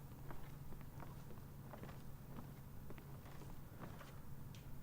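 Steady footsteps in a video game, a guard's soft repeated steps on an indoor floor at a walking pace, faint and muffled beneath a constant low hum.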